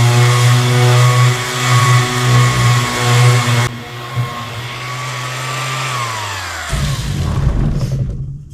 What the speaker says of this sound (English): So we're going to take an orbital sander with a fresh 320 grit pad. And we're going to sand everywhere I can get.